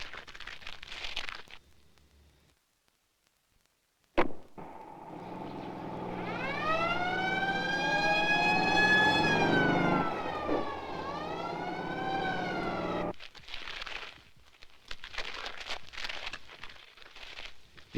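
An ambulance siren on Java wails loudly for several seconds, rising and falling in pitch, with traffic noise before and after.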